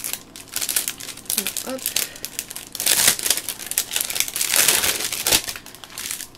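A piece of plastic is handled in a papercraft card project, giving continuous close, loud crinkling and crackling, with a brief French-speaking voice partway through.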